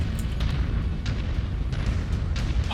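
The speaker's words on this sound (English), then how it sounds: "It's just the lava explosions." Constant deep rumbling booms from erupting lava explosions in the MechWarrior 5 mech game, a dense low roar with occasional sharper bursts layered on top, steady and loud throughout.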